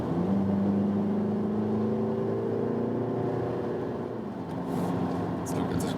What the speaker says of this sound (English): To think about the so-called diesel sound, it really doesn't sound that much like a diesel.